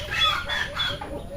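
Farm fowl with a brood of eight turkey chicks on a backyard banana farm give high, thin peeping calls in short bursts, close by and moderately loud.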